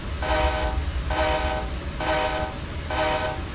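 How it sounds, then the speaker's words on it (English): A GE U30B diesel locomotive rolls in reverse in Train Simulator 2016 on the Feather River Canyon route, with a steady engine rumble and four evenly spaced repeated tonal blasts rising and falling over the low drone. "This train is reversing."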